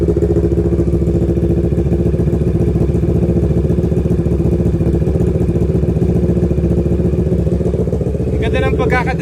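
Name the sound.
motorcycle exhaust low rumble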